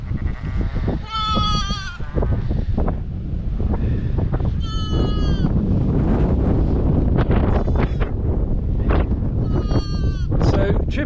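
Sheep bleat outdoors at lambing time, ewes and little ewe lambs calling in several loud, wavering cries over strong wind buffeting the microphone, with a person talking nearby.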